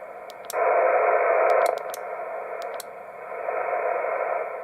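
A Yaesu FT450D HF transceiver gives a steady, smooth receive hiss with attenuation switched in. The hiss changes level in steps as settings change, and faint control clicks are heard.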